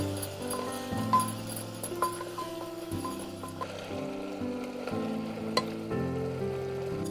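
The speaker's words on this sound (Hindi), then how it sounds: "अब हम इसमें डालेंगे धनिया, हल्दी, इसे तेल छोड़ने तक भून लीजिए।" Coriander and turmeric fry in oil while making dalcha gosht, giving a steady soft sizzle with faint stirring scrapes and a few light clicks, no talking.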